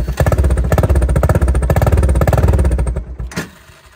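An old Honda engine runs with its choke pulled, a loud, steady, rapidly pulsing idle close by that falters and drops away near the end.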